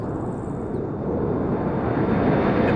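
A fixed-wing aircraft engine in a war video game before takeoff, a steady loud roaring drone that swells slightly throughout, with no talk.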